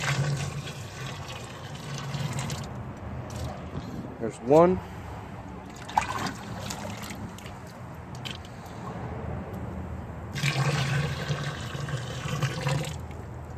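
Hot water, 2.5 quarts in all, is poured into a helles beer mash during home brewing, giving splashing and trickling pours in separate batches while someone talks nearby.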